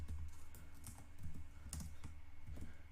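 Rapid typing of a terminal command on a computer keyboard, a quick irregular run of soft clicky keystrokes close by, fairly quiet.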